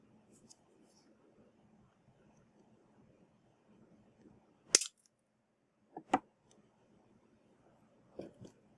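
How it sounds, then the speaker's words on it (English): Snips of jewelry wire being trimmed while forming a French hook earwire: two or three sharp, close clicks of cutters against a quiet room background. "And then you trim this extra bit of wire we have here."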